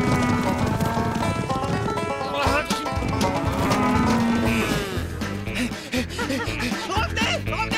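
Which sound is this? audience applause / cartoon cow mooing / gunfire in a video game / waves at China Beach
cartoon cow mooing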